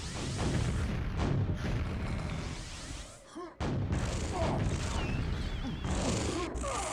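Grenade blasts and weapon fire in a QuakeWorld duel, a dense barrage of loud, booming explosions that keep on with one short gap near the middle and a faint commentator voice underneath.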